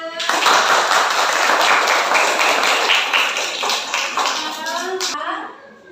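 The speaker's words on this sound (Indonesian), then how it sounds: "Tepuk tangan buat kelompok 3" Classroom applause for a student discussion group, a steady patter of many hands clapping for about five seconds, fading out with light voices at the end.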